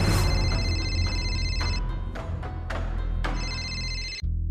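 A phone rings with a video call from the home village, a bright repeating electronic ringtone that fills the room steadily for about four seconds before cutting off abruptly.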